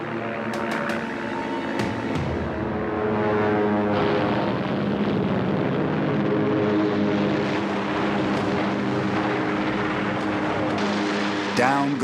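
Propeller engines of WWII carrier fighters roar as pilots aboard the Yorktown scramble to engage Japanese torpedo bombers at Midway, a loud sustained drone with rising and falling pitch under a steady dense mix.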